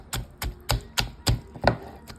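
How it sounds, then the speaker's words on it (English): A knife chops through cabbage on a cutting board with six evenly spaced, sharp thuds at a steady rhythm, recorded close up with no voices. "when you hear that noise, it's chopping"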